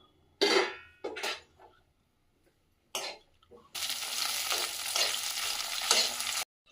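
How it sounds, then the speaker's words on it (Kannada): Green chillies dropped into hot oil in a pan, with a few metallic clatters and scrapes first, then a sudden loud, steady sizzle that continues to the end. "ಇವಾಗ ಬಾಣಲೆಗೆ ಹಸಿಮೆಣಸಿನ್ಕಾಯಿ ಹಾಕೋತಿದ್ದೀನಿ."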